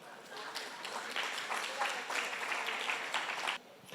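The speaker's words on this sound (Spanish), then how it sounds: "Den un aplauso pues al Señor." Congregation applause in a church service, a fairly quiet bed of clapping with scattered louder claps and some voices, breaking off abruptly near the end.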